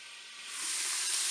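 Meatballs dropped into a hot Cookeo multicooker pot set off a steady hiss and sizzle that swells louder after the first half-second and then holds, with no talking.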